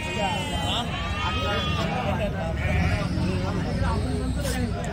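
Sheep bleat repeatedly at a busy Sunday sheep market in Pileru where over a hundred ewes are for sale, the overlapping calls loud and close against a steady murmur of crowd chatter and voices.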